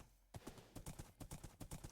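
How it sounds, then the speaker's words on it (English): Rhythmic clip-clop of horse hooves while riding a horse in Minecraft, a quick, steady run of close, distinct footfalls starting after a brief silence. "I'm not very good at riding my horse"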